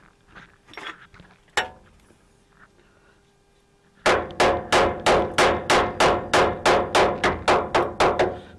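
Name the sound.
chip hammer striking a rat rod chassis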